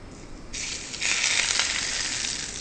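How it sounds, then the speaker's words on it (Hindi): Masala sizzling loudly in hot oil for a spicy fish fry curry with onion, red and green chili and tomato, a steady bright crackling hiss that swells as more goes into the pan, with no talk over it. "ये देखिए किस तरह ऑयल पड़ने से वो मसाला पक रहा है।"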